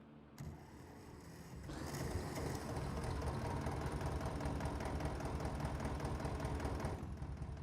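A farm tractor engine, just repaired, starts up and settles into a steady loud running chug with knocking rhythm, then cuts back near the end.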